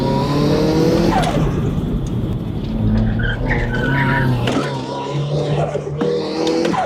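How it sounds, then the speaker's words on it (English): The turbocharged engine of an engine-swapped 1990s car revs hard and drops pitch through downshifts, with tire squeal and loud, close engine noise throughout. "the nature of his turbocharged engine means he has to downshift to keep the revs up"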